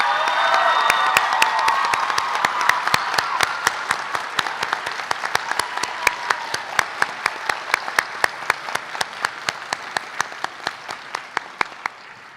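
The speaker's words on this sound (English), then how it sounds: "Students, let's give your families a round of applause." Crowd applause for families at the Perpich Arts High School graduation, 2026, a broad wash of clapping and some cheering that gradually thins into a steady, evenly spaced clap continuing to the end.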